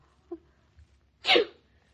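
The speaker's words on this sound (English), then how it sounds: "Claudia, you sneezed again." Claudia, a woman with a cold on a dreary day, sneezes once in a sharp, loud burst, preceded by a faint brief sound and low background hum.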